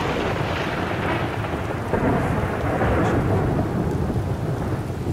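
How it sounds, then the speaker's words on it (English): Steady heavy rain pouring down with a low rolling rumble of thunder throughout, dense and close, no voices, in the video game Skyrim. "It's raining."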